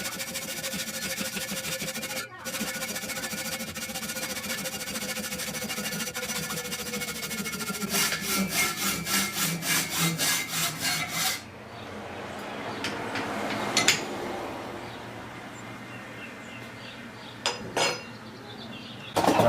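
A hacksaw cuts metal stock for bicycle wrenches, giving rapid rhythmic rasping strokes mid-way, then scattered metallic clinks, scrapes and handling noises close by.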